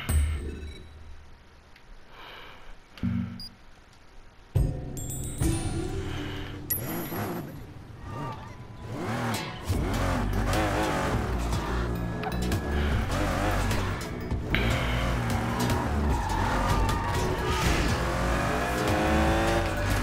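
In the game Sleeping Dogs, a car pulls out and accelerates with revving, then its tires squeal and skid in several sharp bursts, loud and close, with a game soundscape around it.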